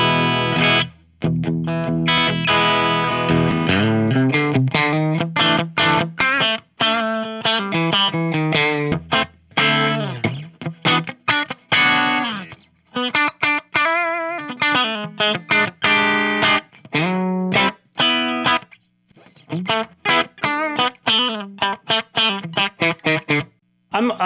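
Telecaster bridge pickup played through the clean channel of a Bugera JCM 900 clone amp, a steady run of plucked notes and chords with short gaps, loud and close with no talking.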